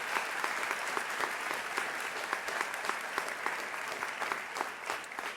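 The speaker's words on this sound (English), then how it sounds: "So another round of applause, please," An audience applauds a high school graduating class at a commencement ceremony, with sustained, dense clapping from a large crowd heard from a moderate distance.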